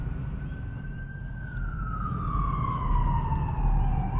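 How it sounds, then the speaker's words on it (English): An ambulance siren wails as the vehicle leaves a scene near a bushwhacking spot, one long steady tone slowly falling in pitch, distant but clearly audible over a constant low rumble. "I think that's the ambulance leaving."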